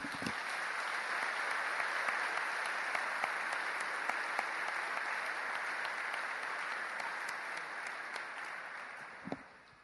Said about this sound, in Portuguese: Dê um forte aplauso aí.